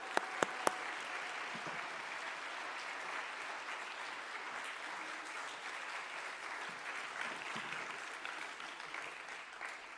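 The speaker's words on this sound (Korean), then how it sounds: "강사님 등단하실 때까지 큰 박수로 맞이해 주시기 바랍니다" Church audience applauding to welcome a speaker to the stage, a steady, even wash of many hands clapping heard from a distance, sustained for the whole stretch after a few sharp knocks at the start.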